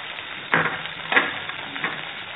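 Chopped onion and garlic frying with asafoetida and fennel seeds in a pan for aloo parathas, a steady faint sizzle with a few louder crackling bursts as the pieces are stirred, with no talking.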